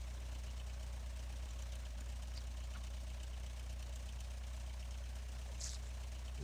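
A Cessna 152 aircraft engine idles at about 1,000 RPM with the propeller spinning, a steady low droning rumble that holds evenly throughout, close and continuous with no talking.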